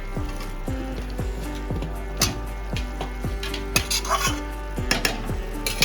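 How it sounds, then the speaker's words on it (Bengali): Fried potatoes tumbling into a pan of banana flower curry, giving a run of clattering scrapes and knocks of a spoon against the pan with a low sizzle beneath, steady and fairly close. "এবারে আলুটা দিয়ে দিচ্ছি, ভাজা ছিল আলুটা"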